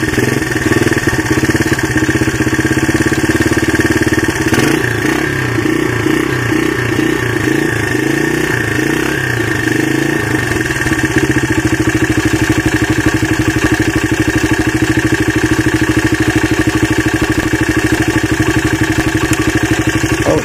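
A worn Honda XR80 motorcycle engine idles steadily and close by for the whole stretch, with a brief burst of lumpy, uneven firing partway through before it settles back into a constant putter.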